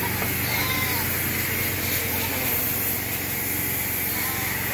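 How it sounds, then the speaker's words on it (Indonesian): An electric sprayer machine hisses continuously while cleaning a goat pen, a steady broadband spray with a low mechanical hum beneath, moderately loud, with faint background voices. "Ini mesin sprayer. Jadi dia harus pakai listrik guys."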